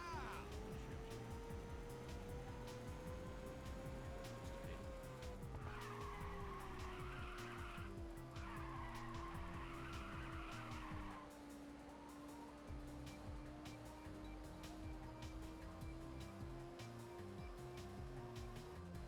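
Tires squeal and skid as a car drifts in the Ridge Racer 2 racing game on PSP, a sustained screech over a steady engine drone, with game music and effects running throughout.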